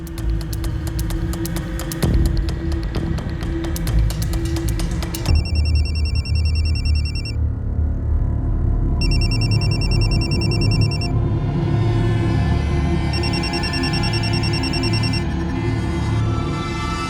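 A telephone rings late at night in a home in a crime drama, its electronic ringtone sounding in repeated bursts with short pauses, loud and close over a low droning music bed.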